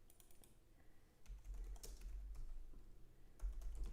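Someone types a password on a computer keyboard in a Linux terminal, producing a quiet run of clicky keystrokes in uneven bursts over a low background rumble.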